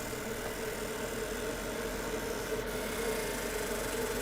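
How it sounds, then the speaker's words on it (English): An exhaust fan venting aluminum fumes hums continuously with a steady low drone and faint mechanical whir, constant in level throughout. "Sorry if you guys can hear the exhaust fan."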